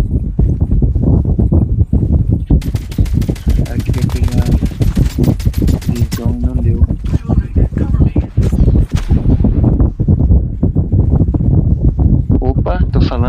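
Rapid bursts of gunfire in a Call of Duty Mobile battle royale match crackle close and loud under continuous excited talk, with a sustained automatic volley in the middle.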